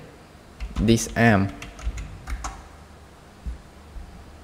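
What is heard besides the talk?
mouse click and computer keyboard typing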